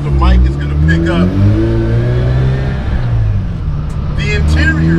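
Inside a Mazda RX-8 race car, the engine drones loud and steady from the cabin, rising and falling with revs, while a person talks over it.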